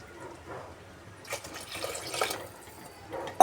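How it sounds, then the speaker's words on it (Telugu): Water, two glasses, pours into a pot of fried ingredients for Nellore-style sambar in a short gush, moderately loud and close, followed by a brief clunk at the end. "రెండు గ్లాసులు వాటర్ వేసేసుకుందామండి"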